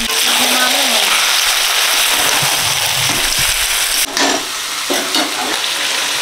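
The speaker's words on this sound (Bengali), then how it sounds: "পেঁয়াজ, আদা, রসুন কষানো হয়ে গেছে, মাংস দিচ্ছি" Chicken is added to onion, ginger and garlic already sautéed in a pan. A loud, dense sizzle of frying fills the whole clip, with a few clatters and stirring knocks near the end.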